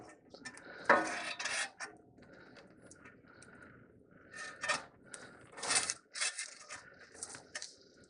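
A steel shovel scrapes and clanks against burnt-down logs, including a piece of pecan, in a wood fire used for cooking ham steak. Irregular scraping strokes and metallic knocks come up close, with no talking.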